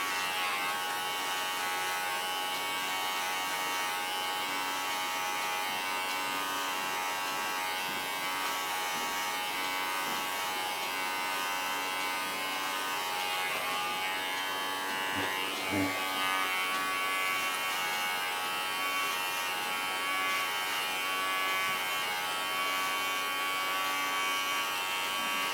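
Electric hair clipper buzzing steadily while cutting hair guided through a comb during a haircut, a continuous close whine with a brief louder bump midway.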